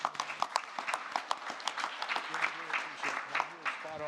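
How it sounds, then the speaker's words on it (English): A conference audience applauds a surgical team, producing faint, scattered clapping that builds into light applause, with a voice speaking over it. "So if everyone can give them a round of applause."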